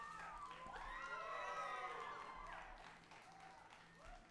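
A hometown wrestling crowd cheers and claps for wrestler Jay Ryan, with sustained shouts and hollers swelling and then easing off, heard fairly faint and distant.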